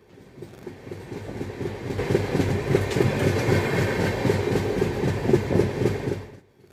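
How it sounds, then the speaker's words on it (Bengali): The Kanchankanya Express passenger train rumbles steadily along the rails through the Terai, North Bengal, with a rhythmic clickety-clack of wheels over joints, building up and then fading at the end. "আমাদের ট্রেন চলেছে তিস্তার পশ্চিম পাড় দিয়ে, অর্থাৎ তরাই অঞ্চলে।"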